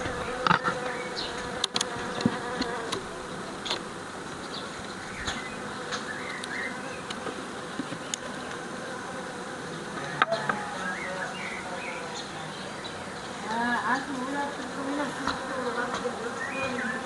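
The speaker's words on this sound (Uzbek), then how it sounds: "Kecha kuni mana shu minnukleuslarga ari solgandik" Honeybees at mini-nucleus hives hum in a steady, dense buzz close by, with individual bees passing near and occasional faint clicks and bird notes in the background.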